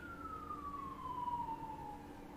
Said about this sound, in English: I like the siren at this moment.